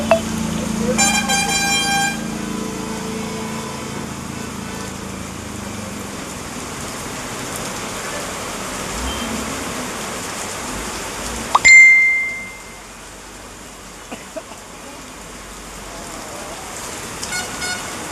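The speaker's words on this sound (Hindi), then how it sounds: "आज देख सकते हैं इधर बारिश गिर रहा है बहुत तेज मोतिहारी में" Heavy rain hisses steadily over a street at Chhatauni Chowk vegetable market in Motihari, with car horns and bell-like tones sounding through it before the rain noise abruptly thins to a quieter patter.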